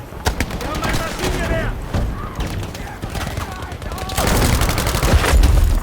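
Rapid automatic fire from an M1928A1 Thompson submachine gun in the video game Battlefield V crackles in dense bursts, close and loud, with scattered shots and distant rattles around it and someone talking over the action.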